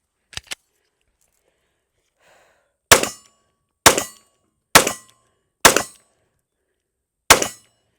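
Taurus GX2 9mm pistol fired at a range: five sharp, loud close-range shots spaced about a second apart, preceded by two quick metallic clicks, with silence between.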